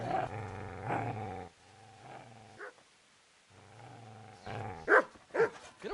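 A dog growls and snarls at the player in the medieval role-playing game Kingdom Come: Deliverance, a low rumbling growl that breaks off briefly and then returns, ending in sharper louder snarls and yelps close by.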